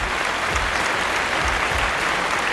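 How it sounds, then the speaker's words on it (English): A large audience of more than a thousand at an HR leaders summit in India breaks into loud, sustained applause, a thick, continuous roar of clapping from the crowd. "A huge round of applause for them as well."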